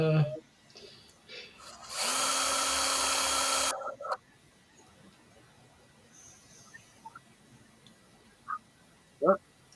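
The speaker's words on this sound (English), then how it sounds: "did you see when I started drilling" A handheld power drill runs at a hobby workbench in one sustained, loud whirring burst of about two seconds, followed by quiet room tone and a few short vocal sounds.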